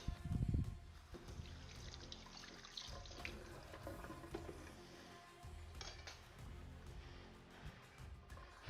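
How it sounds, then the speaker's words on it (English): Hands washed under a running kitchen tap while making burgers, a faint steady stream of water with light splashing, after a short clatter at the start. "let me wash my hands"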